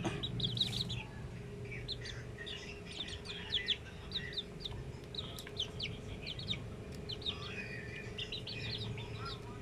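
One-month-old Melsim Black chicks chirping in repeated high peeps over a low steady hum, with soft clucks now and then, moderately close.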